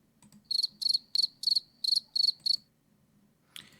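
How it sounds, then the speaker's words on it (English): Crickets chirp in seven quick, evenly spaced bursts, each a close, bright trill. The chirping stops, and a short burst of noise follows after a pause. "I don't know why you did crickets there."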